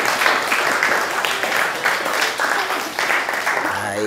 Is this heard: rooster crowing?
no